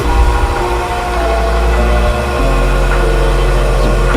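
Subaru STI four-cylinder engine breathing through an Invidia N1 exhaust, a loud low rumbling drone that steps up in pitch as the revs rise, close and alone.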